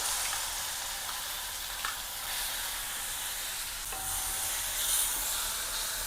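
Wet ground spice masala frying in oil in a pan with turmeric and dried red chillies for a spicy Uttarakhand pahadi potato dish, giving a continuous close sizzle and hiss with no talking.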